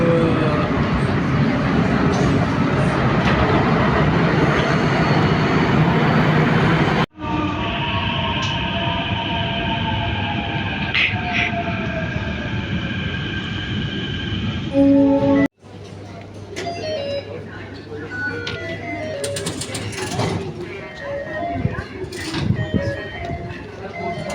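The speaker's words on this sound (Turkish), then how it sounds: "Metroya aktaracağız şimdi." Close, loud Istanbul underground metro train noise: rumbling wheels on rails, rising and falling motor whines, and a brief squeal, with station ambience later.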